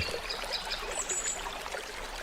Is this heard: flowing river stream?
yes